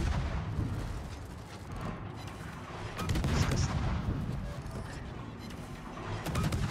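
Naval guns firing shells from a warship in a video game, heavy booming salvos rumbling continuously over about seven seconds with swells of loudness, no talk.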